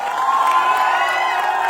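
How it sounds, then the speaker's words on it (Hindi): An audience at a Patna speech rally cheers and hoots loudly and steadily, a dense wall of shouting voices and whoops holding at full volume with no pauses. "जोरदार तालियों और हुटिंग के साथ"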